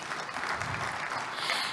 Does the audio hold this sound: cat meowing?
no